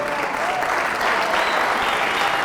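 An audience in a lecture hall claps steadily and evenly throughout, a dense, close wash of applause with no break.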